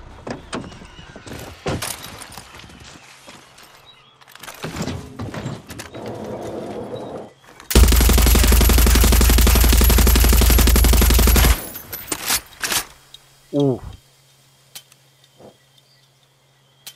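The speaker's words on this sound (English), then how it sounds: "This thing has a mounted machine gun, so I'm gonna bring it over here to use it to destroy the anti-aircraft gun." Mounted machine gun in Far Cry 6 fires one loud, continuous burst lasting several seconds, set between scattered gunfire, horse sounds and other game effects.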